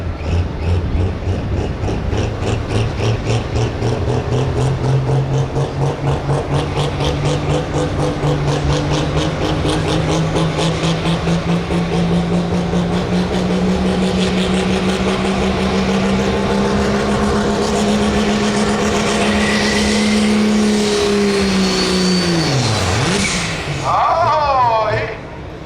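Pro Stock diesel pulling truck at a Freeport, Illinois pull, its turbocharged engine roaring loud and close for most of the run with a steadily rising whine, then dropping sharply near the end as the throttle is pulled back.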